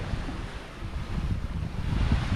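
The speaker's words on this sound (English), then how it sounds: "About 12, 13 knots of wind." Wind at sea aboard a sailing boat making about five to six knots in 12 to 13 knot breeze, a steady close rush of wind buffeting the microphone with water noise underneath, slowly building, no voices.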